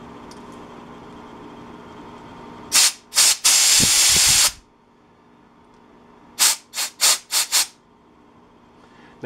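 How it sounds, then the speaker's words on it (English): Compressed air blasts through a string line mower part to push out a rubber seat: one long hissing burst and a few short ones, then a quick series of sharp puffs, loud and close with no talk. "if you blow air through here, you can blow that rubber seat right out"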